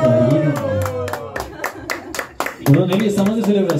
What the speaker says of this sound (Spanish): aplausos, aplausos, cariño.